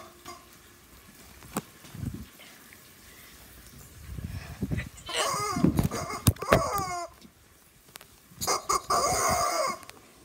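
Chicken making squawky clucking calls in short bursts mid-clip and again near the end, close and fairly loud, with clattering knocks and scattered thumps in between.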